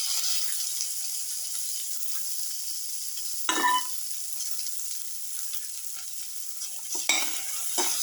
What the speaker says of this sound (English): put in the tomato pieces